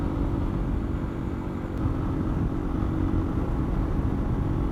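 A dual sport motorcycle rides off-road over a powdery, slick off-camber berm, its engine a steady, low rumble against rough, continuous wind and tire noise, loud and close.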